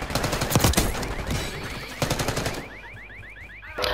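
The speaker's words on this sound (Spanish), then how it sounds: "El arma suena." Gunfire in Call of Duty Black Ops 6 multiplayer: a close, loud burst of rapid automatic shots followed by another quick string of fire and faint mechanical clicks.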